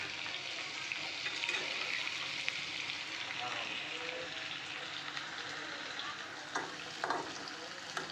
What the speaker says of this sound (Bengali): চার থেকে 5 মিনিট ভালো করে তেল তুলে ভাজি নেই।